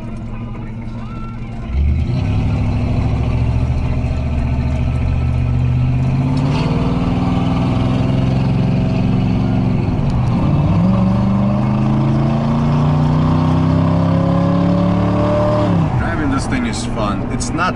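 A 1964 Chevrolet Impala with a two-speed Powerglide automatic drives along, its engine note climbing steadily through long pulls with pitch rises and shifts, loud and continuous from near, with a voice speaking over it.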